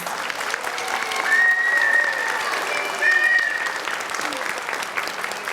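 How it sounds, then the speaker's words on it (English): Audience at a Creekside Elementary preschool graduation applauds award-winning preschool students, sustained clapping of moderate loudness with a few cheers and voices mixed in, swelling slightly midway. "Let's give them a big round of applause"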